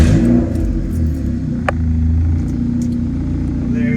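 A car engine turns over and settles into a loud, steady idle with a deep rumble and faint mechanical clatter, heard up close with no speech.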